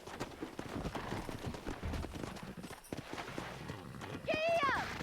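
Horse hooves clip-clop steadily in the Xbox 360 western game Red Dead Redemption, a busy ride under game speech and ambience, with a brief horse whinny near the end.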